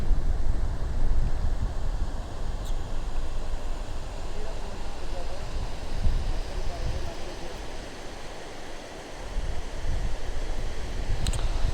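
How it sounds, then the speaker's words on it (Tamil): Water pours steadily from a waterfall into a pool below, a constant broadband rush heard from a moderate distance with no letup. "டீசெண்டாக அருவியில் தண்ணி வந்துட்டுருக்கு."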